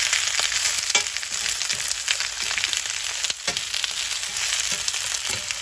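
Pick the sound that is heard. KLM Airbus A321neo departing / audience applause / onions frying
onions frying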